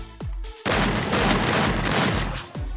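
Shotgun fire in the Free Fire mobile battle-royale game comes as a loud, dense burst of blasts lasting about two seconds, bracketed by short sweeping effects.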